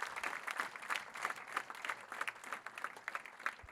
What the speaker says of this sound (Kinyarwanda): Twongere Imana amashyi menshi cyane.